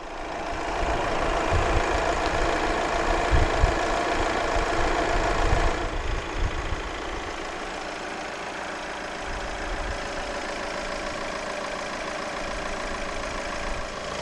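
A 2016 Volkswagen Caddy Maxi Life 2.0 TDI 102 diesel idles steadily with a low, even clatter, louder and rougher for the first six seconds before settling into a quieter idle.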